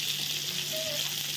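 Fish frying in a pan, a steady hissing sizzle of oil that stays even and close throughout, with no talk.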